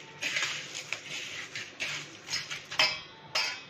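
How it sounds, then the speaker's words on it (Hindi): Poha namkeen stirred together with fine sev in a bowl: soft, close scraping and light clinking of a spoon against the dish in a loose repeating rhythm, quiet, with no voices. "अच्छे से मिक्स कर देंगे।"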